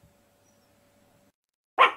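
Toy dog Benny in the game Tokyo Jungle gives a single short, sharp bark near the end after near silence.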